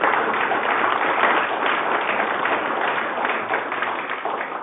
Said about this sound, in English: let's give Michael a round of applause